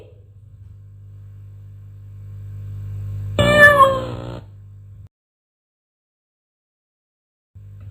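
A single clear cat meow, close and loud, rising over a low steady hum, followed by silence.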